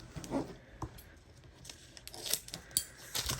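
Paper planner cover being cut with scissors, a few brief crisp snips and rustles scattered among quiet handling noise, close and fairly soft.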